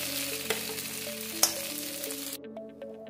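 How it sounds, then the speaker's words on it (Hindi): Potato pieces sizzle steadily in oil in a pan while being stirred, a close, continuous frying hiss broken by a couple of utensil clinks, with no talking. "इनको भी 1 से 2 मिनट चलाते हुए हल्का गोल्डन कलर आने तक फ्राई कर लेंगे।"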